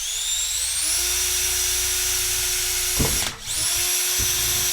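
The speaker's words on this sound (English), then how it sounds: "that is what the drilling will look like for those of you who are unsure" A steady high-pitched whine of a small drill running continuously into a plastic Millennium Falcon model part, briefly dipping and catching once before spinning back up, close and loud.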